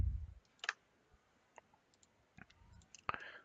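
Sharp computer mouse clicks on a quiet desk while saving default settings in 3ds Max, a few isolated taps spread out, one close and crisp near the start and another near the end.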